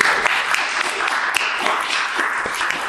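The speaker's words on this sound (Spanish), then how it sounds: "un aplauso más." Audience applause closes a talk on artificial intelligence, a sustained, moderately loud patter of many hands with a few sharper claps standing out.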